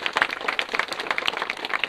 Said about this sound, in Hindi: इसके लिए कम से कम एक और ताली लगाइए जोर लिए।